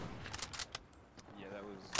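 Machine gun fire in the World War II shooter Hell Let Loose, set on Omaha Beach and Carentan. Scattered, fairly distant shots crack out in short bursts over quiet game ambience, ending in one louder, closer blast.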